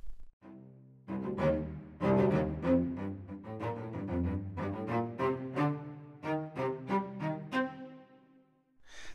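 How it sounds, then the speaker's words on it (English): Spitfire Audio Mural Symphonic Strings, heard through the close leader microphone, play a lively, articulated line of short detached notes and accented chords with a dry, present, detailed tone. "And then we've got the leader mic, which sounds like this."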